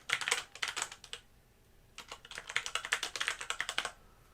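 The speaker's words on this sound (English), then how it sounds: "I'm typing on my lap, so it's not the best experience." Fingers type on a keyboard resting on a lap, two quiet bursts of rapid, uneven key clicks separated by a short pause, with no talking.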